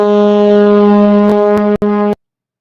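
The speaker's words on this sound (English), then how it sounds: "You have different horns. So the war horn is one that we used quite a bit." A war horn effect sounds a loud, sustained brassy blast with rich harmonics, briefly broken near the end before stopping abruptly, with no talk.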